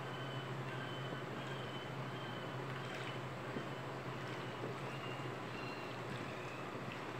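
An electric fan runs in a kitchen with a continuous, fairly faint whirring hum and an even low drone that holds steady throughout.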